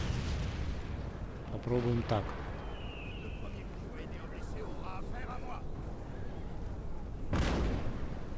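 Battlefield cannon fire from 12-pounder artillery batteries in Napoleon: Total War: a few heavy booms with a sharp blast near the end, heard under someone talking.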